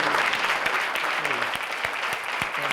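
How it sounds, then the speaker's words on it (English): Lecture audience applauding, a steady patter of many hands clapping with a few sharp individual claps standing out, and a voice speaking over it. "can we give a round of applause for our"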